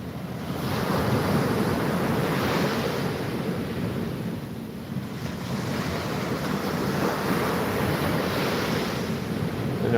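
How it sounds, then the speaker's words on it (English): Sea waves wash steadily onto a beach, a continuous loud roar of surf with gusting wind buffeting the microphone throughout and no voices. "Just watching the waves of the sea"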